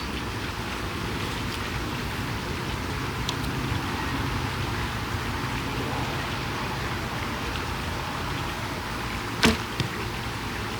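A Whisper longbow sends an arrow into a target. One crisp impact lands late over a constant outdoor hiss, trailed by a small second knock.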